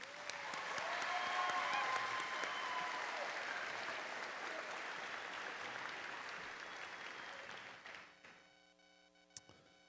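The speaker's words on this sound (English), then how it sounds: "Can I have a quick round of applause for Trom Van, who's playing the piano tonight for us?" Applause from a scholarship-night audience in a high school auditorium greets the evening's pianist, a dense, steady wash of many hands that swells, holds for several seconds, then tapers off near the end.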